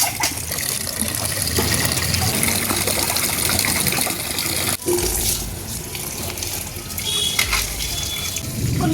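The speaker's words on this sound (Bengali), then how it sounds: "সাতবার জল দিচ্ছে, সাতবার বন্ধ হচ্ছে, আবার আকাশে জল দিচ্ছে।" Rain falls in a loud, dense wash that breaks off briefly midway and then comes back heavier, steady hiss throughout with no voices.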